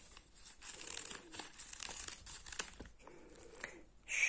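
Scissors cut through newspaper for a folded paper flower, producing soft crinkling snips and rustles up close, with a brighter paper rustle at the end.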